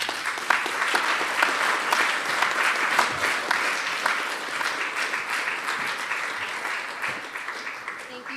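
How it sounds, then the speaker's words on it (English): Audience applause after a veterans' writing workshop stage performance: steady, loud clapping from a full hall that continues throughout with no break. "Give them one more round of applause."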